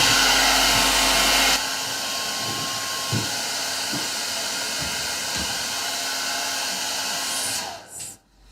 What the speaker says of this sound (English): I'm gonna hit this with the blow dryer real quick